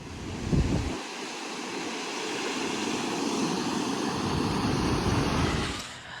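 Calm ocean waves on the Canary Islands wash in a steady, broad rushing hiss that swells gently and holds for several seconds, with no voices.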